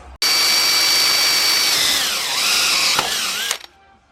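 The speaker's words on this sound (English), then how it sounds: "It's like a machinist drill bit, but it's a pilot hole, so that way it doesn't walk on me" A machinist drill bit bores a pilot hole into a part clamped in a vise, giving a loud, close, high whine for about three seconds. Its pitch sags under load midway, then the drill spins down and stops.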